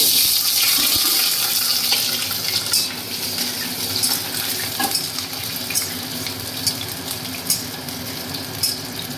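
Potatoes frying in hot oil in a home kitchen, a loud, continuous sizzle with occasional stirring scrapes and bright crackles, close up and with no talking.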